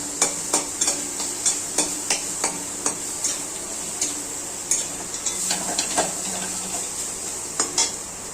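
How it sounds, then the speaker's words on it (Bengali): Boiled potatoes mixed with spices in a bowl for a bread pakora filling, with rhythmic scraping and light metallic clinks at a steady pace over a faint constant hiss. "এখন আলুগুলো দিয়ে দেবো, দিয়ে ভালো করে মিক্স করে নিয়ে, যদি দানা দানা থাকে তাহলে হাত দিয়ে ভালো করে ম্যাশ করে নিতে হবে"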